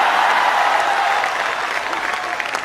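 A senior audience at a poetry recital breaks into warm, sustained applause, a thick continuous patter of many hands clapping close by that eases off slightly toward the end.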